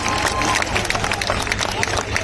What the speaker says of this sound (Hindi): ऐसे शख्सियत यशस्वी मुख्यमंत्री शिवराज सिंह जी का हम तालियों की गड़गड़ाहट से हम लोग स्वागत करें